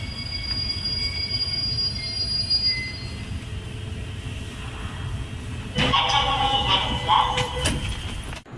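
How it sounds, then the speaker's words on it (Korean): Incheon Line 1 subway train pulling into a station platform, a steady rumbling roar with shrill wheel squeals and screeches rising as it slows, surrounded by station ambience. "인천 1호선 열차가 왔고 인천 1호선 열차에 승차합니다"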